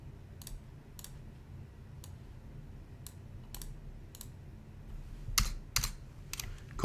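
Notes are typed on a computer keyboard: sparse, separate key clicks at first, then quicker clustered taps toward the end, close and crisp against a quiet room.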